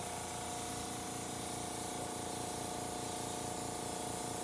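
A single-action airbrush spraying paint, a steady close hiss of compressed air that runs evenly without pause.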